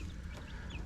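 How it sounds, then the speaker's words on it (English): Silkie chicks in a stock-tank brooder give a few faint, brief chirps and soft clucks over a low background hum. "These are kind of pet chickens, and the ones he wanted to get were called Silkies."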